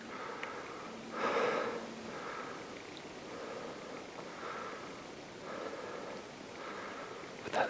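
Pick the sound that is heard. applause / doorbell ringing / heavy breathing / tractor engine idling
heavy breathing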